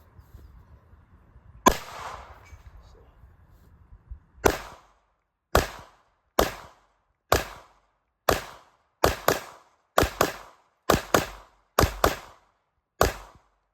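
A Glock 19 9mm pistol fired outdoors, about a dozen sharp loud cracks, several in quick double-tap pairs, separated by short silences, no talking.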